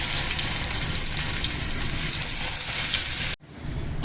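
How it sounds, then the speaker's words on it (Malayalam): Marinated fish pieces fry in oil in a pan with a steady, close, loud sizzle that runs unbroken for several seconds and then cuts off abruptly near the end. "ഇനി നമുക്ക് മാരിനേറ്റ് ചെയ്ത് വെച്ച ഫിഷ് ഒന്ന് ഫ്രൈ ചെയ്തെടുക്കാം."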